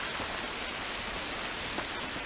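Even, continuous downpour in The Last of Us video game, a broad soft hiss of rain on surfaces holding constant throughout, with no talking.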